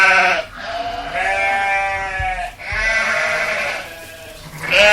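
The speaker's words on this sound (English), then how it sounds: "Bunch of sheep." Several sheep bleat in a loud, close, overlapping chorus of wavering calls, played as a sound effect, with short pauses between bursts and no talking.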